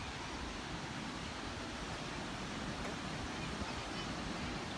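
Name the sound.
wind on a beach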